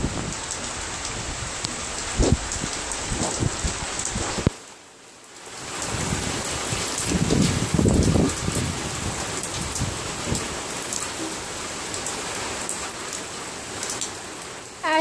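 Heavy rain pours during a thunderstorm in Austin, Texas, with streets starting to flood. A loud, continuous hiss of drops drums on surfaces, briefly dipping quieter before surging back, with low rumbles of thunder beneath.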